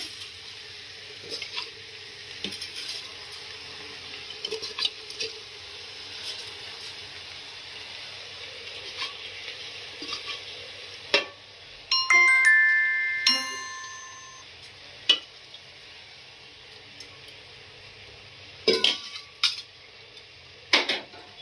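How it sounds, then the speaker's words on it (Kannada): Pot clatter and utensil scraping from rice being fried with masala in a pot for mint pudina pulao, with intermittent clinks, stirring scrapes and faint sizzle, louder bursts of metal contact near the middle and end, no talking. "ನೋಡಿ ಸ್ವಲ್ಪ ಫ್ರೈ ಮಾಡ್ತೀನಿ ಮಸಾಲೆ ಸ್ವಲ್ಪ ಘಾಟ್ ಹೋದ್ಮೇಲೆ ಅಕ್ಕಿ ಹಾಕುತ್ತಾ ಇದ್ದೀನಿ"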